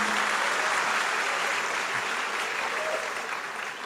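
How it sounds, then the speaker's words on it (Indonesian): Steady applause from an audience greeting a university rector at a student discussion, dense and sustained throughout, thinning slightly toward the end. "Beri tepuk tangan buat Pak Rektor kita."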